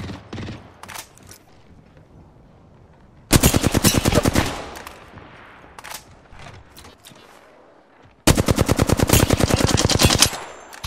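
Flatline assault rifle firing in the video game Apex Legends: two long, loud full-auto bursts of rapid, evenly spaced shots, with scattered distant gunfire and faint game sounds between them.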